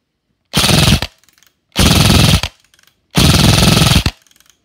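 An airsoft gun on an 11.1 V LiPo battery firing full auto through a chronograph at about 14.5 rounds per second: three loud, close, rapid bursts, each under a second long, separated by silence.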